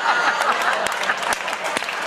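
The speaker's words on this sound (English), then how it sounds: "everyone's applauding that joke" An audience applauds a joke during a card-shuffling comedy bit, dense crowd clapping with a few sharper individual claps and some voices mixed in.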